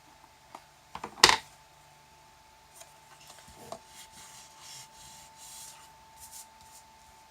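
An ink pad, Marina Mist in color, is rubbed over a craft surface, producing soft scratchy brushing strokes after a sharp close tap, with quiet pauses between the strokes.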